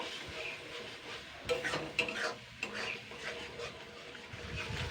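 Spice paste for Barishal-style prawn jolbora being sautéed with a splash of water, a low sizzle under repeated scraping and knocking stir strokes in a pan, close and moderately quiet.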